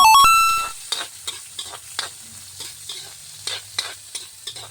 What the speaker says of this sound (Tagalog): ang bawang at sibulas. Halo-halo lang.